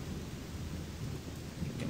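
Rain and thunder in the game Gothic 2, a dense continuous wash of rainfall with a low rumbling bed underneath, steady and enveloping, with no speech over it.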